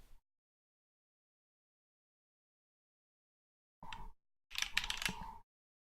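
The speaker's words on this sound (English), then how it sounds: "I can't even type here." Computer keyboard typing comes after a long silence: first a brief cluster of keystrokes, then a busier, louder run of quick taps, close and clear with no talk.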